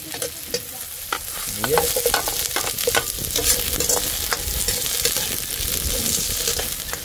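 Chili peppers sauté in a hot pan with a loud, continuous sizzle, mixed with repeated scraping and tapping from stirring. A single short word is spoken early on.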